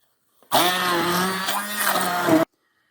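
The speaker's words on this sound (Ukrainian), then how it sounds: "І це все перебиваю блендером." A blender whirs steadily at high speed for about two seconds, blending apples, pears, mandarins and pumpkin, then cuts off abruptly into silence.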